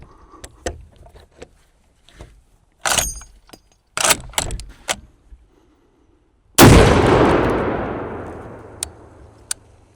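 A single loud, sharp rifle shot from an Auto Ordnance TAO 50 .50-caliber rifle fired outdoors off a bipod, with a long booming tail. Scattered clicks and handling knocks come before it, and a faint knock follows.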